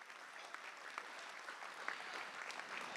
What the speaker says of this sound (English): give them a round of applause for making things happen today